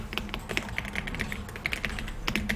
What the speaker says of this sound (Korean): 포토스케이프라고 쓰고 엔터